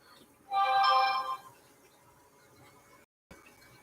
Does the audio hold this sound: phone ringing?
yes